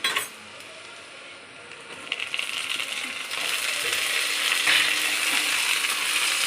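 Garlic and chilli powder sauté in hot oil in a pan for garlic rice, giving a steady close sizzle with light metallic clinks and scrapes that grows a little louder partway through, with no talking.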